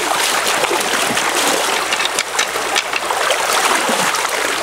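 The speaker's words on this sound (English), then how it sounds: "I have disturbed the bottom sort of down to the depth of my fingers, stirring it all around" Creek water swirled and stirred by hand down into a loose streambed, a steady close rushing and sloshing wash with small splashes throughout, no talking.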